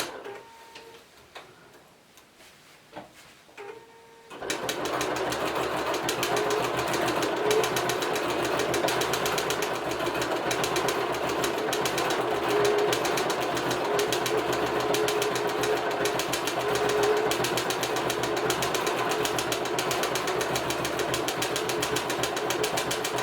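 A sewing machine stitches white thread around the ears and eyes of a giraffe picture, starting after a few quiet seconds of faint handling clicks, then running in a fast, steady, close mechanical tick without talk.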